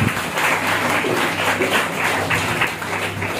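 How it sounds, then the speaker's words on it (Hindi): Sustained audience applause filling the whole stretch at steady loudness, a dense wash of many hands clapping at once with no voices rising above it. "तालियों की गड़गड़ाहट"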